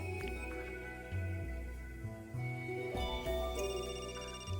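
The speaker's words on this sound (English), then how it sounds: "That's my phone." A phone rings in the Another Code R video game, a melodic electronic ringtone repeating several short tonal phrases at steady volume over soft game background sound.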